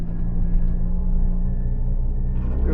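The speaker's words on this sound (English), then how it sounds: "Very noisy little gearbox as well." Great Wall Wingle campervan climbing a hill in low gear, an underpowered engine drones with a constant low rumble and a whining, noisy gearbox tone, close and steady inside the cab.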